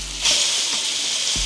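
Suya steak sizzling in a hot pan, a loud steady hiss of frying meat with a few faint clinks and scrapes underneath.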